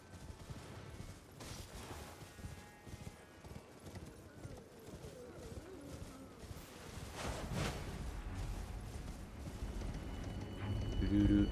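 Horse hooves clip-clopping in the Elden Ring video game, a steady galloping patter at moderate distance, mixed with game ambience and a rising swell toward the end, with a voice speaking over parts.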